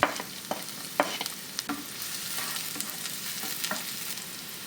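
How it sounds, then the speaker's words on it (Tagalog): Garlic and onion sauté in hot oil in a frying pan for bopis, a soft steady sizzle with scattered scraping clicks of stirring, fairly quiet and close. "Sa ating kawali, nagpainit na ho ako ng mantika at magigisa ho ako ng bawang."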